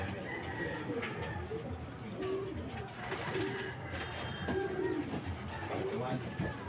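Racing pigeons coo softly in a loft, low repeated cooing calls amid a busy background, with people talking nearby.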